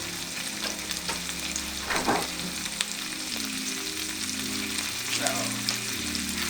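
Rinsed green beans, stems still on, hit hot avocado oil in a pan, giving a constant soft sizzle with occasional stirring scrapes and clatters. No one speaks.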